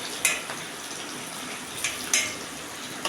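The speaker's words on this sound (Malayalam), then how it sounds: "എല്ലാ ചിക്കനും അതിലിട്ട് വറുത്ത് കോരി" Chicken deep-frying in hot oil over a low flame, giving a steady soft bubbling crackle with a few sharper pops and clinks of a utensil, fairly quiet and close, with no talking.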